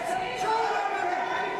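A boxing crowd at a Clash of Champions fight keeps up a steady roar of noise as a fighter rallies them, with voices blending into a dense, continuous wash throughout.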